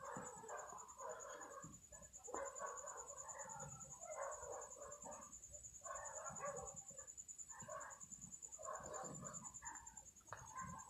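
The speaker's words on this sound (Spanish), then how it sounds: "Están muy alebrestados los perros." Several agitated dogs bark in repeated bursts across a cemetery at night, the barking fairly distant and continuous, with a steady high insect-like whine running underneath.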